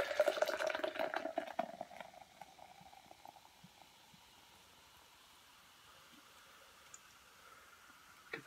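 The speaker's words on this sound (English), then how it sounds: "Pour it in." Liquid poured into a homemade drink mixture, a loud splashing gush at first that fades to a soft trickle and then near quiet, close by.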